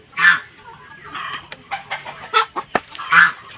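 Backyard pet chickens on a small Filipino farm with ducks and geese, hens clucking in short bursts with a rooster crowing, close and fairly loud, repeated calls across the yard.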